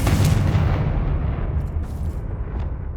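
A Confringo blasting spell in the Hogwarts Legacy game goes off as a loud, booming explosion, with the rumble fading over about three seconds.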